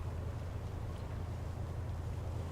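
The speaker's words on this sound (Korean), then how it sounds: "바람이 세다 오늘." Strong wind at sea in the fishing game Fishing: North Atlantic, a steady low rumbling roar with boat and water noise, constant and moderately loud.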